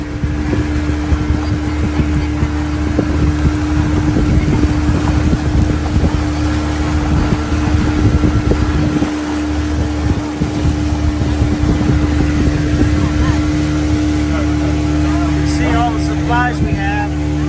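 Motorboat engine droning continuously while travelling upriver on a Peru trip, a loud, steady hum with wind buffeting the microphone.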